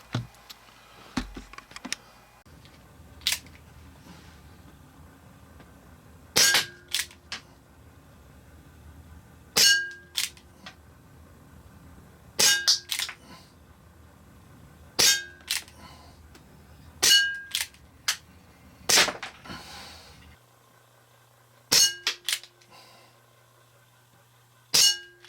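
A Colt Peacemaker replica airgun fires in a series of sharp, metallic clanging shots spaced a few seconds apart. Quieter clicks from handling fall between the shots over a faint background hum.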